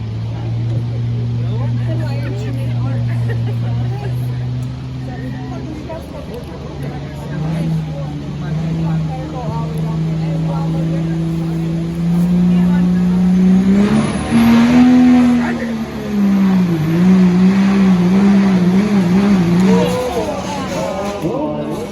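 A diesel pickup at a smoothbore truck pull in Arpin, Wisconsin, holds a loud, steady low engine drone that climbs in pitch and then revs and wavers near the end, with voices talking over it.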